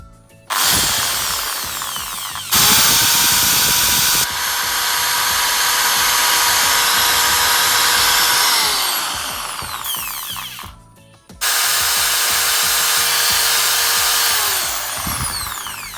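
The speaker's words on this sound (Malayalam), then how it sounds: "ഒരു ഡ്രിൽ മെഷീൻ ഉപയോഗിച്ചാണ് ഞാൻ ഹോൾ അടിച്ചത്." An electric drill bores holes in polished coconut shells, its motor whining loud and steady in long runs, broken by brief stops and restarts, with no voices.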